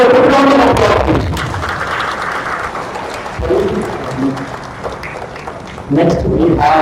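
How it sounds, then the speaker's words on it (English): An audience at a toppers' talk event in Vellore claps for a ranked student, a steady wash of applause that swells between an announcer's speech at the start and again at the end. "Can we have a round of applause, please?"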